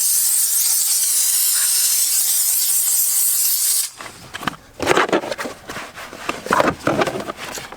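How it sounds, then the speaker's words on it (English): A steam cleaner blasts a loud, steady hiss for about four seconds, then gives way to rougher spraying and sputtering bursts while it works on an engine's turbo manifold area. "steam cleaners are so nice to have"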